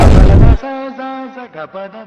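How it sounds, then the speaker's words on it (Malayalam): A firecracker left over from the Vishu festival goes off in a single loud, close blast lasting about half a second, and a person starts talking right after it. "വിഷുവിന് പൊട്ടാത്തൊരു പടക്കം ഇപ്പൊ പൊട്ടിയതാണോ"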